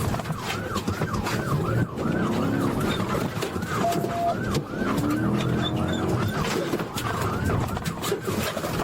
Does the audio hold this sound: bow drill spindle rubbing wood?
no